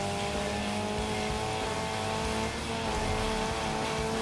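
A racing car drives in the game Gravel, on a beach and water stretch: a steady, close engine drone with held tonal hum and rough tire and surface noise throughout, unbroken by speech.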